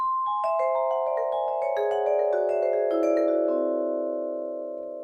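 Soft vibraphone notes from a Space Age Vibraphone plugin in wash mode ring out in a flowing figure, each tone sustaining and blending into a shimmering wash that slowly fades.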